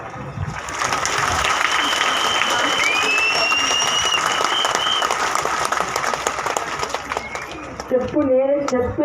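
Applause from an audience of about 5,000 people at a morning talk fills the hall, building quickly and holding steady as a dense roar of claps before thinning out near the end, with faint voices underneath.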